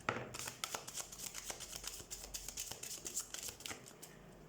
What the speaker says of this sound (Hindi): तो let's shuffle the cards and let's see.